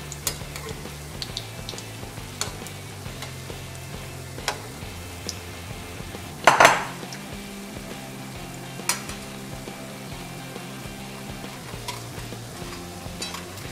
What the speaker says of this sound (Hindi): ये दोनों तरफ से फ्राई हो चुके हैं तो हम इन्हें निकाल लेते हैं।